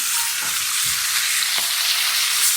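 A whole hilsa fish fries in hot oil at a riverside ghat in Chandpur, a steady bright sizzle and crackle with a few soft stirring knocks underneath.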